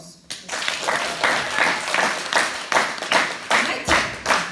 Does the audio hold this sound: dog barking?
no